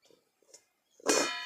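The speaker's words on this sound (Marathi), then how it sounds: "याच्यावर थोडं ताट ठेवू" A metal plate clangs down onto a pot of aubergine curry cooking on a wood-fired stove, one sharp ringing strike that lingers briefly after a few soft shuffling sounds.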